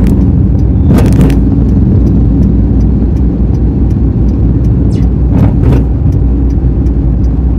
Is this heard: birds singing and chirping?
no